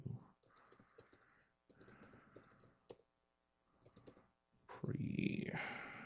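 Faint clicks from a computer keyboard as someone types HTML code, sparse and quiet, under a person talking in a low voice.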